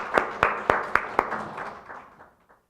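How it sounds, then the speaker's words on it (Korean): At a National Assembly forum, a few sharp, evenly spaced hand claps ring out close by, then soften and thin over the next two seconds until they fade to silence. "뜨거운 박수로 환영해 주십시오."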